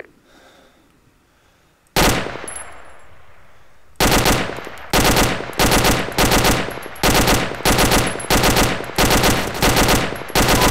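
Gunfire in the Arma military shooter game: one sharp shot with a long echoing tail, then a second, followed by a rapid regular series of loud, close reports with ringing decay.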